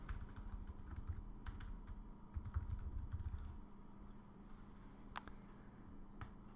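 Fingers tap quickly on a computer keyboard, bursts of light clicking keystrokes over a soft low hum, then a few scattered key presses.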